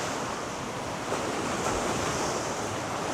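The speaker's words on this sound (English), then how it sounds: "And the sea really is swelling here." The sea swells against the shore of Krk, Croatia, on an autumn day after a storm, producing a loud, steady roar of surf with wind buffeting the microphone and no voices.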